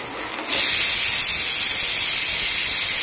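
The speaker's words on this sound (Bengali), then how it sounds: "দুটো ডিম ভাজবো এখন, কড়াইতে তেলটা আছে আগের থেকেই।" Two eggs drop into hot oil in a wok, setting off a sudden loud, steady hiss after a brief quiet moment.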